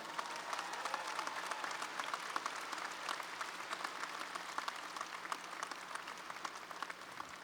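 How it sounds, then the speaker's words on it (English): A large crowd applauding at a university commencement ceremony: a fairly faint, continuous wash of many hands clapping, heard from a distance and holding steady for the whole stretch. "Please give them a round of applause."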